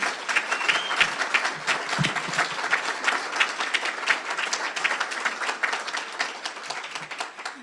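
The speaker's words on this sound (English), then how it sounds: "Could we just give them a round of applause for this amazing event?" A round of applause from an audience at an alumni achievement awards event, sustained and dense clapping that swells and gradually thins out toward the end.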